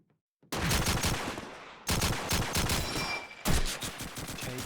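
Gunfire in the shooter game Call of Duty 2: three loud, close bursts of rapid automatic fire, each beginning abruptly after a moment of near silence and running on as dense crackling shots.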